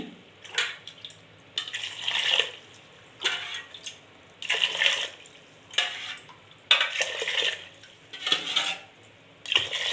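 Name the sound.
pouring water into cooker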